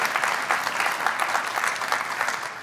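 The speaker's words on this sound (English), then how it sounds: "You can clap." An audience claps at a product demo, a dense, steady wash of many hands at moderate volume that holds evenly across the whole stretch.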